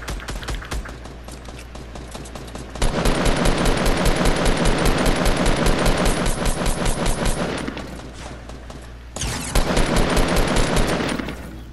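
Sustained automatic gunfire from a Fortnite match, loud dense bursts of rapid shots running almost continuously with a short pause before a final burst, no talking over it.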